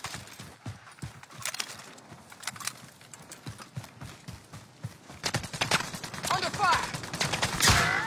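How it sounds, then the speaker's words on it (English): Gunfire in Call of Duty: Warzone 2.0 crackles as rapid bursts and scattered shots, building into denser, louder firing toward the end, with brief voices mixed in. "Where's that shooting from?"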